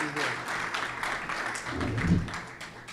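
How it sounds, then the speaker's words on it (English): An audience applauds Coach Jeff Brandes at his introduction as Temple's head men's and women's tennis coach, a moderate clatter of clapping with voices talking over it. "let's give a warm welcome and round of applause to Coach Jeff Brandis"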